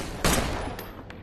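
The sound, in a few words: gunshots in a TV drama scene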